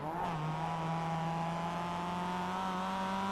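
A race car on a banked track holds a loud, steady engine drone at high revs, running past 6,000 RPM in a slipstream at over 100 mph, with the tone rising slightly at the start.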